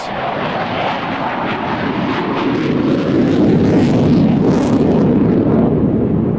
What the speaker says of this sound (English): It's all been pretty much fast jets, a lot of noise.